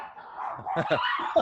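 Several dogs bark in quick, overlapping yaps at a distance, mixed with a steady background hum.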